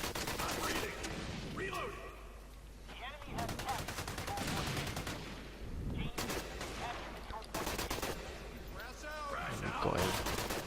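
Grenade blasts and rapid gunfire in the shooter game Special Forces Team X, bursts of automatic fire and explosions recurring throughout at moderate level with a voice talking over the fighting.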